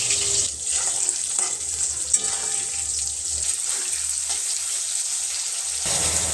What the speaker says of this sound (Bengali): আর এদিকে মাছ ভাজা হচ্ছে